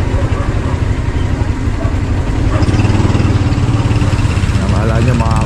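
A motorcycle engine running steadily up close on a road near Commonwealth, a loud continuous low throb with a voice talking over it.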